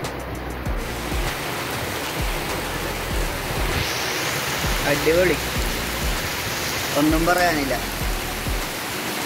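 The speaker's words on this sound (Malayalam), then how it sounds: "മഴയാണ്." Heavy rain falling outdoors at a scenic spot, a loud, continuous broadband hiss filling the whole scene while a person speaks briefly over it.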